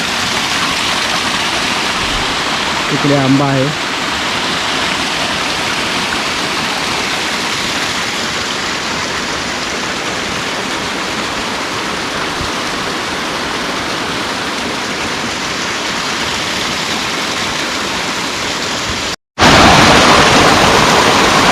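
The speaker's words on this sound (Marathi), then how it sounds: "पाणी बघा बागामध्ये" Water flows steadily through a village garden planted with areca nut palms, a loud unbroken rushing that fills the clip, with a short spoken remark early on and an abrupt break near the end.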